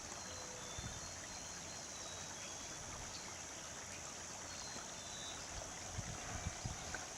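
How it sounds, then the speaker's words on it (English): Storm water runoff flowing beneath a tree and into an orchard on a residential property, a steady, faint trickling wash that carries on throughout with a few soft low bumps near the end. "where we can see the water running underneath the tree and into the orchard"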